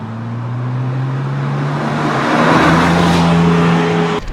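A manual 2007 Porsche 911 Turbo under way, its turbocharged engine droning steadily and building in pitch as it accelerates, loud and close from inside the cabin, with a brief cut at the end.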